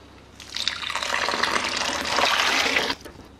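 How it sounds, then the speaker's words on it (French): About five litres of freshly boiled water being poured into a container while making cider from apple juice, a close, steady rushing pour lasting a few seconds before stopping abruptly. "on va venir rajouter 5 litres d'eau chaude"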